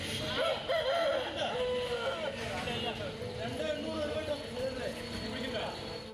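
Roosters crowing and clucking at an illegal betting cockfight in Kozhinjampara, Palakkad, with a steady babble of crowd voices beneath the repeated calls.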